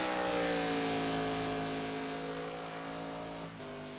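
An ARCA race car engine in the iRacing sim drones steadily at high revs, its tone easing slightly downward as it holds a long, loud, even pull, running with something off in how it behaves.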